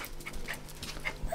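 A dog panting softly in quick, rhythmic breaths, faint and close, with a few tiny whimpering squeaks and no talking.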